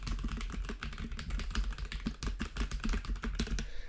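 Quick, steady typing on a computer keyboard, heard as rapid clicking keystrokes, close but fairly quiet, with no voices over it.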